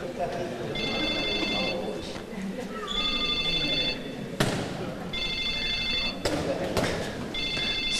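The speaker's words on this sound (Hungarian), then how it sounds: "Valakinek csörög a telefonja." Mobile phone ringtone in a crowded indoor sports hall during a men's league handball match, a bright melodic ring repeating four times over constant crowd noise, a commentator talking and sharp bangs from the court.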